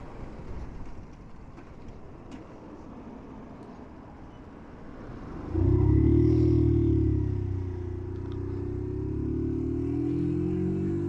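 A Yamasaki F31 50cc motorbike engine idles low, then revs up sharply and pulls away, its drone rising in pitch before settling into a steady hum.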